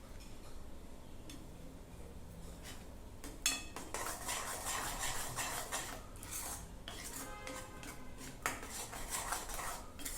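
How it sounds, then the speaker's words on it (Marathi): Mango peda dough stirred in a pan, a quiet run of scraping strokes and light metallic clinks from the spoon against the pan, close but soft and unhurried. "तोपर्यंत सतत हलवत राहायचं आहे आपण."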